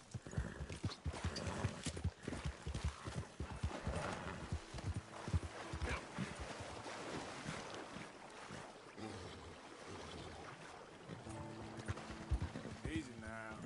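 Horse hooves clip-clop in the video game Red Dead Redemption 2, an uneven run of close hoofbeats mixed with game ambience while someone talks over them.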